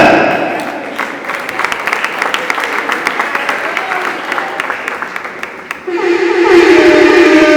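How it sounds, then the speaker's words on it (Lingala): An audience applauds a young talent-show winner with steady, fairly loud clapping, joined by a voice and a swell of music near the end. "Prenez un applaudissement pour le jeune winner."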